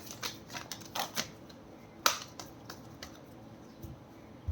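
Tarot cards are shuffled by hand in a quick run of crisp clicks and snaps, with a louder slap near the middle, close and fairly quiet, with no talking.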